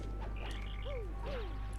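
Frog croaks from the Paper Mario: The Thousand-Year Door video game, two short falling croaks against a steady game background hum, fairly faint.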